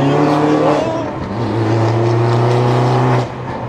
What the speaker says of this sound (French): Échappement Pro Weld